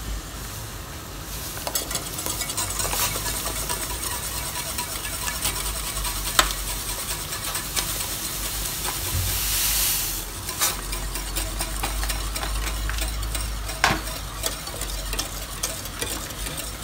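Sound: stirring polenta in pot

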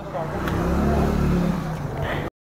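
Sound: Yamaha RX-135 two-stroke motorcycle starting and revving

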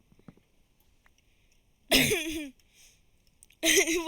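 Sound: cough

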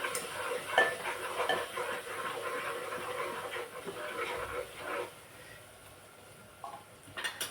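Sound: sautéing coriander powder in a pan

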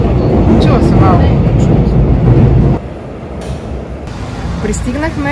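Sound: subway train ride in Seoul metro

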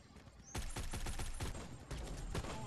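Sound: Odin assault rifle gunfire in a video game

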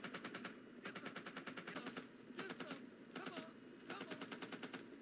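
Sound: gunfire in the movie Full Metal Jacket

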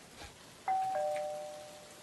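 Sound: doorbell ringing in a SpongeBob video game

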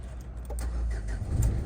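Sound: Renault Duster 2016 engine running

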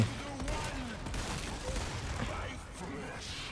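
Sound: gunfire in a video game

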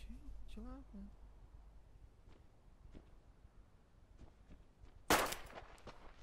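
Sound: gunshots in Deadside video game

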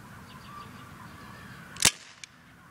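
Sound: Daisy CO2 semi-automatic pistol shot hitting a can

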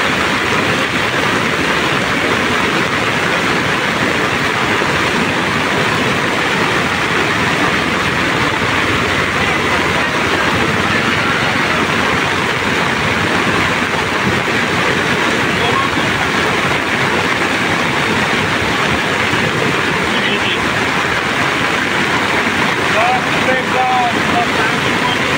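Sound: flooded Sardu river flowing strongly

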